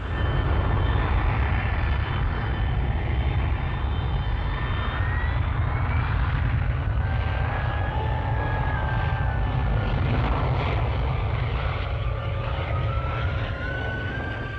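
Hawker Siddeley Kestrel VTOL jet aircraft on a short-run takeoff from a temporary field, a loud, steady jet roar with rising and shifting whine tones, continuous throughout and with no talk.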